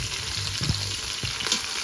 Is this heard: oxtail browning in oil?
yes